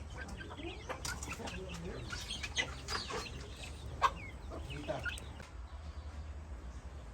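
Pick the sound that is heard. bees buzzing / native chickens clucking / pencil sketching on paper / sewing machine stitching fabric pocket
native chickens clucking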